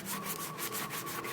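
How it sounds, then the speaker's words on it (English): Rhythmic back-and-forth rasping of a sanding block on body filler on a Mercedes-Benz SLK wheel, about six strokes, steady and close. "we're going to take our sanding block, and we're going to start sanding away"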